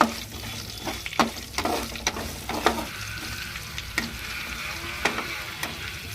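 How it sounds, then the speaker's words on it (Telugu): Mustard seeds, dried red chillies and curry leaves sizzle and crackle in hot oil for a tempering, with steady frying hiss punctuated by sharp pops and stirring clinks throughout. "నూనె అయితే కాగినాక తాలింపు గింజలు అయితే వేయాలి మూడు మూడైతే ఎండుమిరపకాయలు తీసుకున్నాను కొద్ది కరేపాకు"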